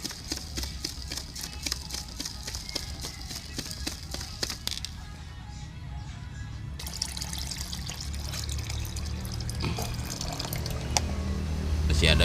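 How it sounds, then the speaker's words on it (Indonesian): Water pours into a fertilizer mix for chili plants, a continuous splashing trickle and fill that brightens and grows fuller toward the end, with occasional crackles. "kita tambah lagi airnya"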